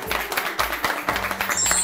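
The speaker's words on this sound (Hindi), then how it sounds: "बहुत जोरदार तालियां" Studio audience on a Bhojpuri TV game show breaks into loud applause, a dense burst of clapping that fills the short moment with no talk over it.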